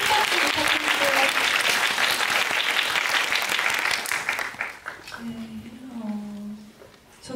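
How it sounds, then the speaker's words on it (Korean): A film festival audience at a Busan International Film Festival screening Q&A for '너와 나' breaks into loud, dense applause that gradually fades, with voices talking as the clapping dies away. "여러분 큰 박수 부탁드릴게요"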